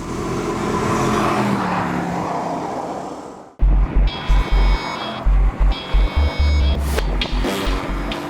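A Mercedes-AMG GT S sports car engine roars loudly at first, then after a brief drop bursts into a series of sharp, heavy revs and deep throbbing pulses close by.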